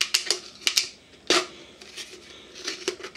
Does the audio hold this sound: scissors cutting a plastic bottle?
yes